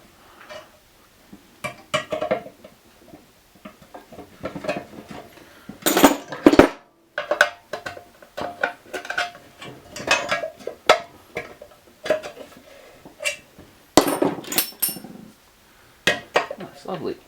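Metal tool knocking and prying at a painted-shut knockout on an old electrical box on a printing press motor, giving irregular sharp metallic clinks and taps with pauses between.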